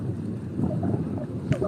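Wind gusts buffet the microphone at Charles Fort in Kinsale, County Cork, a low, rumbling rush of air with a brief louder gust near the end.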